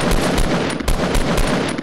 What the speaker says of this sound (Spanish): escucho disparos demasiado cerca